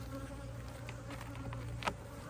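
Honeybees buzz steadily around an open hive being split to head off swarming, a dense close drone with individual bees zipping past near the microphone.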